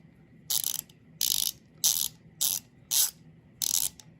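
A large half-inch drive Duralast ratchet clicks in six quick bursts, each a rapid run of sharp metallic ticks, close up with short pauses between.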